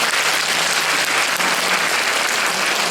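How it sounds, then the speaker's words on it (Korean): Dense, sustained applause from an audience at an education concert, a steady wash of many hands clapping with no speech over it. "네, 박수 부탁드리겠습니다."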